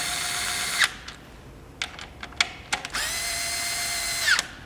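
A power drill or impact driver tightens the blow-off valve flange on a 2008 Subaru WRX, close by, with a long whir, several short bursts of trigger pulses, then another long run.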